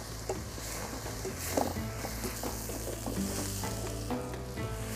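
Onions fry in a pan with a steady, close sizzle and occasional stirring scrapes and clicks, continuous with no talking.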